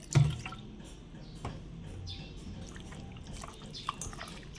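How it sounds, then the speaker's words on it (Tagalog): Sprite soda pours into a homemade pork tocino marinade, a soft liquid trickle with a few drips after a clunk at the start, close and fairly quiet, no voices. "Dagdagan pa natin ng Sprite"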